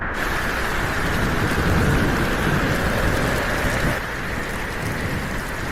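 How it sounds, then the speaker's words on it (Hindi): Heavy rain pours steadily outdoors during a storm, with deep rumbling thunder under the continuous hiss, loud and close, with no voices. "बाहर इतना तूफान चल रहा है"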